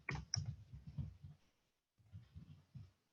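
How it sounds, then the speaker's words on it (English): Typing a short chat greeting on a computer keyboard: two quick runs of soft, close key clicks with a brief pause between them, and no speech. "I'm going to type in, hi, everybody."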